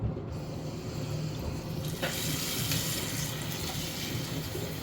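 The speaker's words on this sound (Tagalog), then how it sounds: "So, hugasan muna natin." Acacia flowers are washed under running water, a continuous loud splash and gush like a tap filling a sink, with a brief louder splash partway through.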